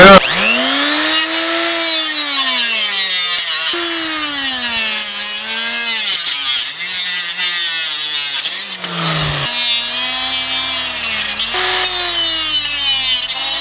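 A power tool whines loudly and continuously while cutting plastic parts off a thin plastic custom grille for a 2014 Outback, its pitch dipping and rising as the blade bites.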